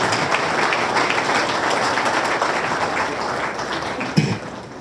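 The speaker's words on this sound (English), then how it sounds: "for a round of applause for them" A round of applause at the opening of a new bottling factory: sustained crowd clapping at a steady level for several seconds, then tapering off near the end.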